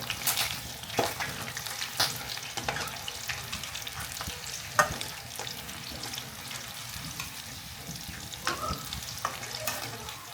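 Methi bhajiya frying in hot oil in a home kitchen, a steady close crackling sizzle with scattered pops and stirring clinks throughout.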